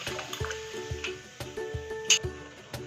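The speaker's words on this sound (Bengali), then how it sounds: "2 কাপের মতন জল দিয়ে দিলাম।" About two cups of water pour into lentils in a cooking pot for Bengali sour dal with mango, a soft, steady liquid trickle with faint drips and small clinks, close and quiet, with no talking.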